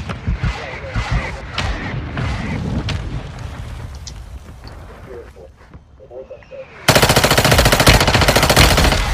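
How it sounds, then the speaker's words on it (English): Rapid bursts of automatic gunfire in a zombie-themed online shooter game, loud and dense near the end after scattered shots, with a player talking over the action. "They're shooting at us from back behind us too."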